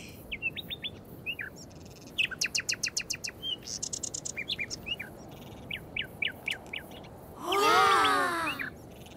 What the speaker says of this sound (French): On entend l'oiseau qui est là-bas!